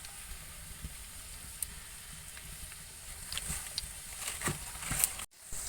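Oil sizzles and crackles softly in a wok as nimki dough pieces fry, growing livelier toward the end with small pops, with no voices.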